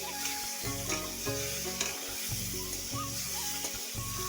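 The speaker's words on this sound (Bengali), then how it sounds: "চলো আমি এক এক করে মাছগুলো ভেজে নিচ্ছি" Prawns frying in a pan for chingri macher jhal, a dense, continuous sizzle with a periodic stirring rhythm and occasional scrapes, close and steady, with no voices.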